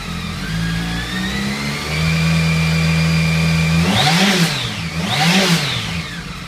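A BMW K1200 motorcycle engine idles steadily in a garage, then revs up twice in quick swells, loud and close, with no voices.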